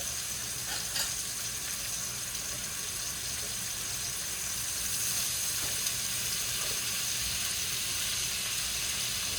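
Steak sizzles steadily in a pan with melted butter and rosemary, a continuous close hiss and crackle with no talking.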